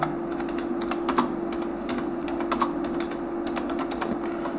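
Keys tapped on a computer keyboard while a name is entered into an online exam application form, a steady run of close, quick clicks with small pauses, alone with no talking.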